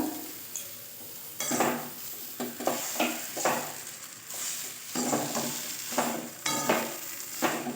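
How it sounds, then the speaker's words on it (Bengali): Peanuts stirred in a frying pan for vegetable chops: repeated close scraping strokes of a spatula against the pan over a light sizzle, coming in regular bursts. "বাদামটা দিয়েও একবার নেড়ে নেব"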